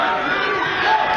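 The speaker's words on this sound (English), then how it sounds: "his fellow wrestlers try to cheer on Randy Binner here" Eastmont fans and fellow wrestlers cheering at a high school boys wrestling match against Wenatchee, a continuous loud crowd roar of mixed shouts and yells filling the short stretch.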